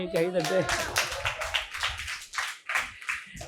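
A burst of applause from a church congregation during a Tamil sermon, dense broadband clapping that rises and falls over a few seconds, with a voice briefly heard at the start.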